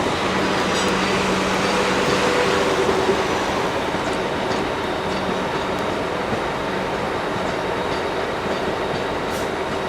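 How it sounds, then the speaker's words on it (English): South Western Railway class 450 electric multiple unit, 450034 leading with 450100 on the rear, pulling away from London Waterloo: a steady broad rumble and hum of traction and wheels, close and loud throughout with faint squeal tones, no voices. "Pulling away there is going to be the 1115 South Western Railway service to Hazelmere on 2 Papa 29 with 450034 on the front"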